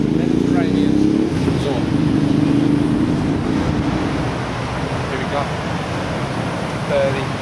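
Surf rolls onto the beach at Burleigh Heads on the Gold Coast on an overcast day, a constant wash of waves and wind beneath people talking nearby.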